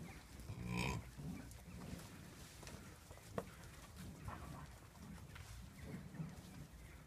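Bison on a farm give a low, drawn-out lowing call early on, then softer grunts follow amid faint birdsong and outdoor background, fairly quiet overall.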